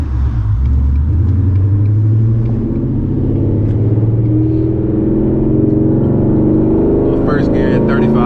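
A 2021 Ford Mustang GT V8 fitted with stainless Power headers accelerates hard from inside the car in first gear with traction control off, its loud, deep exhaust drone rising steadily in pitch throughout.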